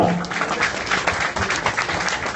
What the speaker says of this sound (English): How about a nice round of applause for our great sponsors